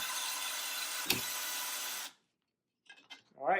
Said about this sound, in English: Here's where we recommend the power drill.